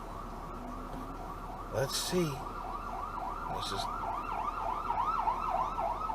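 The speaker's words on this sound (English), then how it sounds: "I hear sirens." A wailing siren sweeps up and down repeatedly, rising in loudness as it approaches, with a brief spoken remark and some background traffic.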